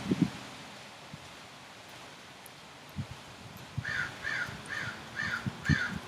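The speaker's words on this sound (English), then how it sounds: "And the crow comes in." A crow caws five times in a steady, evenly spaced series from moderate distance outdoors, following gusty wind and rustling; no talk.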